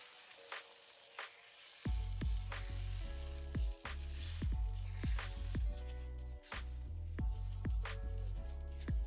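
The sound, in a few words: egg whites scrambling and sizzling in fried rice mixture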